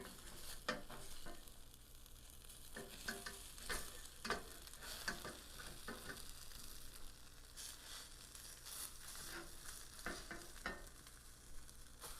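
A croque monsieur sandwich fries in a sprayed skillet, giving a steady, quiet sizzle with scattered soft scraping and stirring noises throughout, and no talk.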